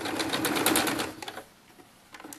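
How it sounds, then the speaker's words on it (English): A sewing machine runs a quick burst of stitching along the narrow foot end of dollhouse bed linen, close and steady for about a second before stopping, followed by a couple of faint clicks. "Now we just sew this narrow end at the foot."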